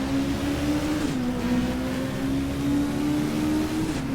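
A 1987 WTCC touring car in the racing game GTR2 drones steadily around the Nürburgring while braking with ABS, its engine holding a constant, even tone with slight pitch dips and no voices.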